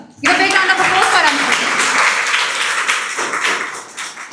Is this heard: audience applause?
yes